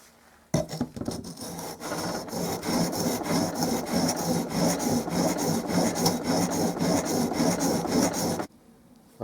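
A chisel is sharpened with steady back-and-forth rasping strokes on a stone, loud and close, running continuously for about eight seconds before stopping, with no talking.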